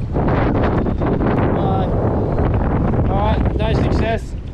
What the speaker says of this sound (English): It's a bit windy out here on this western little coast here, inlet.